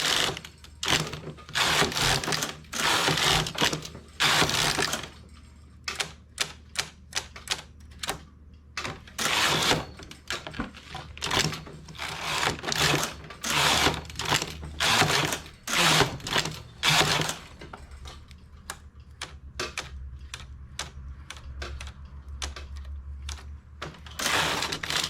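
A knitting machine carriage is pushed back and forth across the needle bed knitting plain rows, making repeated bursts of loud clattering and whirring with brief pauses between passes.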